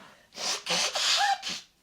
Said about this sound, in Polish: Smarkam.